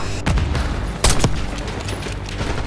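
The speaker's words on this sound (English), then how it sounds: "those mortars!" Mortar fire in the Call of Duty Black Ops 6 campaign: two sharp heavy blasts rise out of a dense, rumbling battlefield din, with steady background gunfire and noise continuing throughout.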